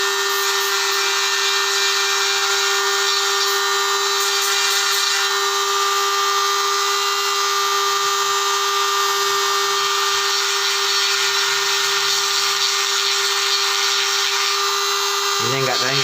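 A small high-speed mini grinder whines steadily and loudly for the whole stretch, cutting off abruptly near the end.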